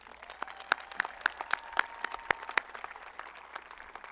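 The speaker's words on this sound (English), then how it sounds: "How about another round of applause for our student speakers?" Outdoor applause from a 2024 high school graduation crowd for the student speakers, sparse individual claps popping out over a steady wash of clapping, moderately distant.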